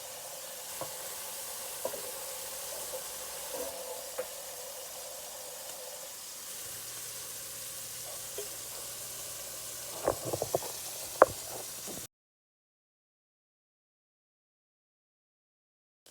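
Ground beef patties fry in a little olive oil with a soft, steady sizzle, some small crackles and a few clicks near the end before the sound cuts to silence.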